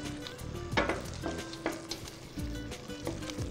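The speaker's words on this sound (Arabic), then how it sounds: "وبعد كده نقلب تقليبة الخضار بالفراخ" Vegetables and chicken for a turlu dish stir-frying in a pan: steady sizzling broken by repeated scraping stirs at an uneven rhythm, close and moderately quiet, with no talk.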